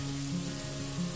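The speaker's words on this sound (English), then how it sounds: "Add the onion, Saute," Onion sautéing in a pan gives a brief, steady hiss of close sizzling, with a low hum running underneath.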